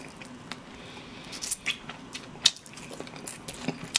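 Crisp bites and crunchy chewing on crispy spicy soy-glazed fried chicken, sharp close crackles scattered unevenly over a few seconds, several louder snaps standing out against soft mouth sounds, with no talking.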